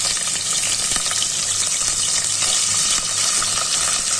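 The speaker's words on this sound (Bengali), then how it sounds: "এখন আমি চুলায় তেল দিয়ে পেঁয়াজ কুচি দিব" Chopped onion hits hot oil in a pan on the stove, giving a loud, even, close sizzle with a bright hiss that holds steady throughout.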